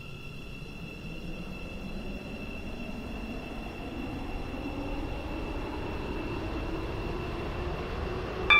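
Continuous low train rumble with steady high-pitched motor whine tones, smooth and unbroken, fairly quiet and with no voices, from a Class 717/0 train in the Roblox game Stepford County Railway.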